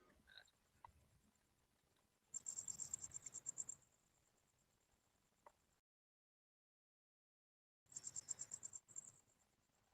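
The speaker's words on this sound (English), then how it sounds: "I hear the crickets." Crickets chirp in two faint, rapid pulsing bursts separated by a quiet gap, thin high trills heard at a distance, with a brief pause of near silence in between.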